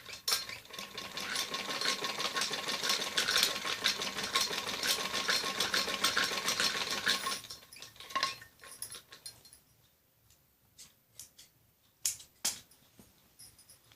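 Sewing machine stitching a kid's top, running steadily and fairly close for about seven seconds, then stopping and starting in short bursts with pauses of near quiet and small clicks.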